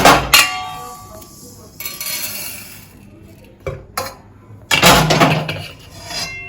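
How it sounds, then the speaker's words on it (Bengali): Roasted spices ground on a stone shil slab for a kalmi shak recipe: several short, harsh scraping and knocking bursts separated by brief quieter gaps, fairly close. "এবার এটাকে আমি ঠান্ডা করে শিলে গুঁড়ো করে নেব।"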